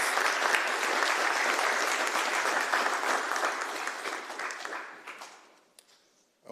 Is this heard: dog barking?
no